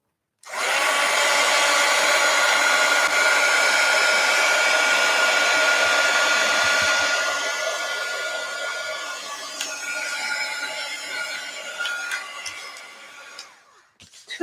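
A hair dryer blows steadily and loudly on an art journal page, running nonstop for about thirteen seconds before its whine tapers and cuts off near the end, with no talking over it.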